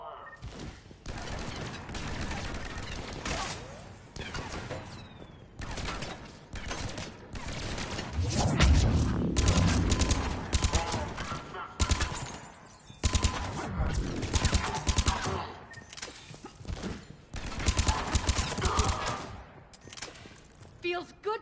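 Repeated bursts of gunfire in the video game Mass Effect, loud and dense in clustered volleys with heavy thumps, mixed with game voices and shouting throughout.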